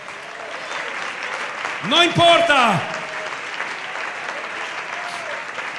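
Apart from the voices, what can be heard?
congregation applauding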